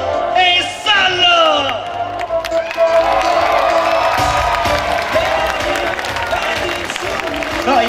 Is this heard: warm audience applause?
yes